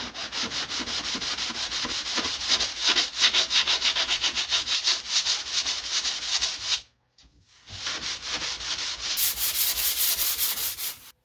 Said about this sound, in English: So just a gentle sand.